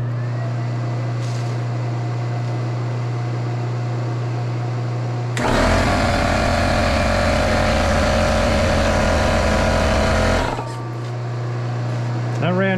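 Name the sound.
air compressor running on 12V LiFePO4 battery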